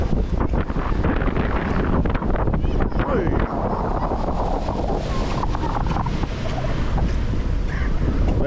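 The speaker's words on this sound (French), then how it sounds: "On est d'accord qu'il y a un peu de vent encore" Heavy wind buffets the microphone throughout a ride on Expedition GeForce at Holiday Park, a steady roaring rush with loud gusts and light splashy texture, while voices speak over it.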